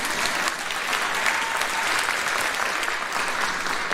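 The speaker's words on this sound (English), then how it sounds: "Feel free to applause, that's fine." Continuous audience applause at a high school class of 2021 commencement, a thick, even roar of many hands clapping, loud and sustained, with faint crowd murmur beneath.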